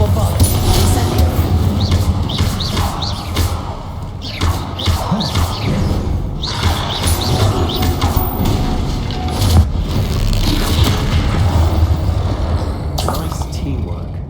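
Spell explosions and crashing impacts from Hogwarts Legacy combat against a troll, repeated bursts and thuds spread through the clip over a dense game soundscape, mixed with voices.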